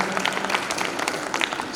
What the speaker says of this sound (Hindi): मैं चाहूँगा कि आप सभी के लिए एक बार जोरदार तालियां आप सभी बजाएं